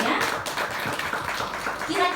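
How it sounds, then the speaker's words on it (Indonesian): An audience of students and teachers claps during a school talk about broadcast journalism, a brief patter of hands heard close and loud enough, mixed with voices talking. "Tepuk tangan dulu dong biar semangatnya."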